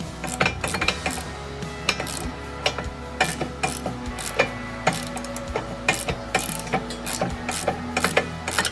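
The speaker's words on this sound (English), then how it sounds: "I switched over to the 21 millimeter ratchet, and this is gonna make it a lot easier to take off" A 21 mm ratchet working on the front brake caliper bolts of a 2016 Dodge Charger, with rapid metallic clicking bursts and clanks from the tools, close and loud, repeating unevenly throughout.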